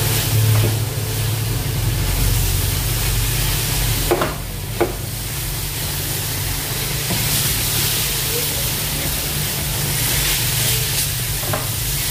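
Coconut stuffing for steamed ukadiche modak cooks in a pan, giving a steady low sizzle and broadband frying hiss with occasional spoon scrapes as it is stirred; no voices.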